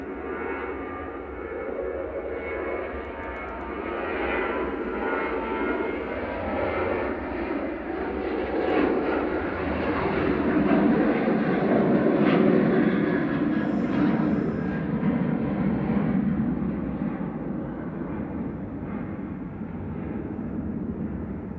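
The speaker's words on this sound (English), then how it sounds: "This is Ryanair to Milan, EIEBP, taking flight 9215 back to Italy." Ryanair jet airliner taking off at Manchester Airport, a broad roaring engine noise that swells to a peak midway and then slowly fades as the plane climbs away.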